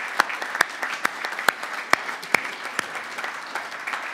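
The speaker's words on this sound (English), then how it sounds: "I'd like to give him a round of applause" Applause from an audience at a general assembly, a sparse scattering of sharp individual claps over a softer wash of clapping, steady and moderately close.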